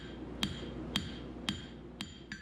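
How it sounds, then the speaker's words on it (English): A hammer forges the bevel of a kukri blade with five evenly spaced, ringing metallic strikes about half a second apart, close and clear over a quiet background. "Continuing to forge the bevel here, evening things up, getting a little more width on the front end of the blade"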